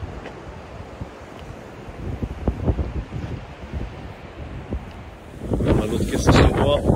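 Wind buffets the microphone during a storm on the Baltic Sea while surf rolls in, the wash of the waves growing louder and fuller toward the end.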